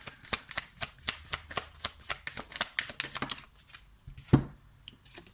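Oracle cards are shuffled by hand in quick, rhythmic riffling strokes, a dozen or so crisp papery slaps close to the microphone, slowing before a final soft tap.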